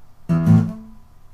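Two quick low bass notes thumb-plucked on an acoustic guitar in rapid succession, ringing briefly before fading away.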